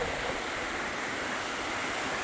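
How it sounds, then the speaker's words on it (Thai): Heavy rain pours down in strong wind, a steady, loud, broadband hiss that fills the whole stretch without a break and with no voices. "ฝนตกอย่างแรงเลยครับ"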